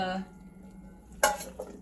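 Drained beans poured into a bowl land in a short, bright rattling clatter partway through, followed by a smaller knock, after a quiet kitchen lull.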